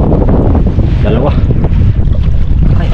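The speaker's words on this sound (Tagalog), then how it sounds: "kalakas ng hangin" Strong wind roars and buffets the microphone continuously outdoors at a mud crab catching area, with a low rumble and a faint voice underneath.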